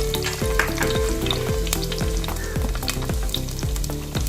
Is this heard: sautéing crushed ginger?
yes